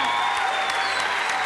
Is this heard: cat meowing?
no